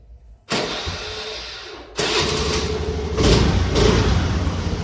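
A Suzuki AX 100 motorcycle after a rebuild starts up with a sudden burst, stalls, then catches again and settles into a steady, close, loud idle that swells briefly near the end, with no talk.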